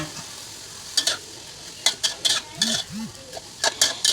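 Bean sprouts stir-fried with pork and egg in a pan: scraping stirs and bursts of sizzling come in irregular strokes close by, with a faint voice briefly heard under the cooking.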